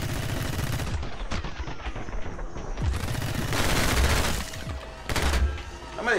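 Rapid gunfire rattles through a shootout in the game My Friend Pedro, loud automatic bursts and individual shots overlapping with booming impacts, continuous and close across the whole stretch.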